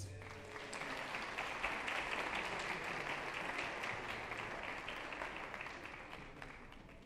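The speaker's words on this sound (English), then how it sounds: "Let's give them a round of applause." An audience at an annual employee recognition ceremony applauds honorees for 20 years of service, a dense, steady round of clapping from a large room that holds for about seven seconds at moderate distance.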